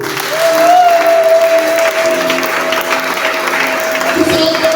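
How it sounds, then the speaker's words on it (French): A church congregation applauds and cheers for the Lord, a loud steady wash of clapping and crowd noise that holds for several seconds with a sustained tone running beneath it. "Est-ce que tu peux acclamer pour le Seigneur?"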